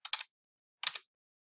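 Two short bursts of computer keyboard typing, close and crisp, separated by a brief pause, with no voice.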